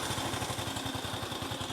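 A Honda EX5 motorcycle with fuel injection idles close by just after starting, a steady rapid low putter with even pulses, loud and continuous with no talking.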